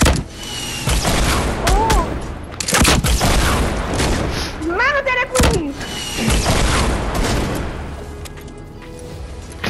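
An RPG rocket launcher in a Fortnite battle royale match, firing and exploding with heavy booms and thuds among chaotic game noise, while players talk excitedly over it.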